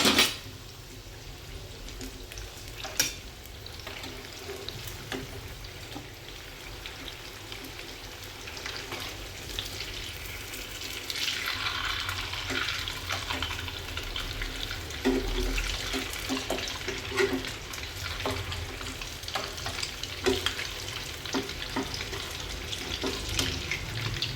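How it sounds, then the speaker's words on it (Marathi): Ragda patties sizzle in a pan after being flipped, a steady broadband frying hiss that swells louder about halfway through, with a few faint clicks and taps throughout and no talking. "आपले पॅटीस असे आपण पलटी मारून घ्यायचे आहे."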